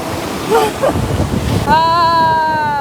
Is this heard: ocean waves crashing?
yes